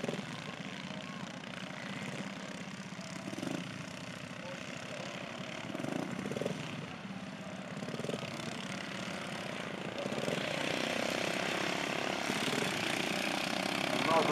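Racing lawn mower engines drone continuously at a grass-track race meeting at Heddington and Stockley in 2011, a steady mid-distance roar that swells louder near the end, with a commentator's voice running over it.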